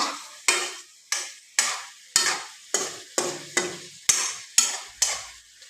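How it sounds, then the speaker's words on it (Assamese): Chicken curry being stirred in a pan, with about ten regular strokes of a spoon scraping through sizzling food, each stroke a sharp onset followed by a fading fry hiss, close and alone with no talking. "আৰু অলপ লাৰি দিছোঁ ধুনীয়া কৰি"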